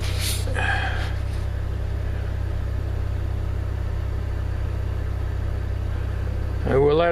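A 1991 Dodge Dakota pickup truck idles after starting, long unused, with a steady low engine hum running throughout and a brief rustle near the start and the end.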